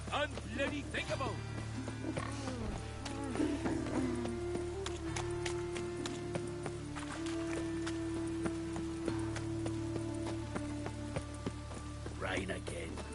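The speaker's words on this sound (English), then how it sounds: "Rain again." Rain patters steadily in the fantasy world of The Witcher, a soft continuous hiss under voices, tonal game sounds and faint hoof-like knocks throughout.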